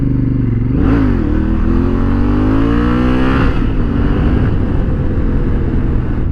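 Honda Africa Twin motorcycle revving hard for a wheelie attempt, its engine note climbing sharply twice then settling into a loud, close drone.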